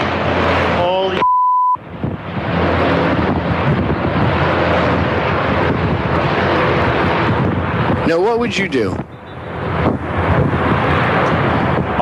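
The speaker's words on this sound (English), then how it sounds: "army gunships flying in and firing" Loud roaring drone of army gunships flying overhead and firing over Miami, buffeted by wind noise, with a brief beep and a short spoken question partway through.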